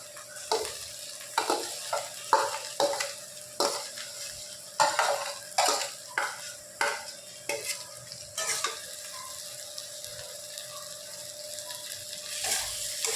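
Mashed boiled potato is stirred into onions frying in a pan, with repeated scraping strokes of a utensil against the pan over a soft, steady sizzle, close up and without talking.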